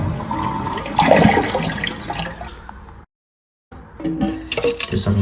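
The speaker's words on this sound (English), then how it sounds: "Hold the flush to drain the tank." A Kohler toilet flushes with a loud rushing gush and gurgle as the tank drains, a brief clink partway, then a moment of silence before water trickles and refills with light knocks.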